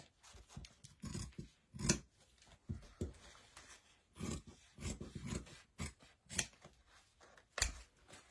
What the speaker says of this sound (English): I just drew it and cut it out. And I'm just going to cut out my leaf